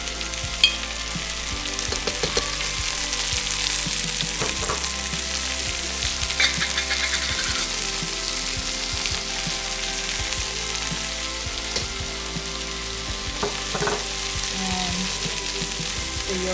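Meat fries in a hot pan with ginger garlic paste for biryani, giving a steady close sizzle with occasional stirring scrapes and clicks throughout.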